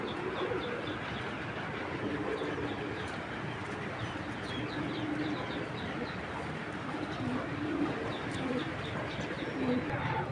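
A female Bejji pigeon among many pigeons coos repeatedly in soft, low, rolling calls, with chirps from other birds over a constant background hum.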